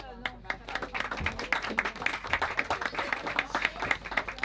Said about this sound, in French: on peut applaudir encore bien fort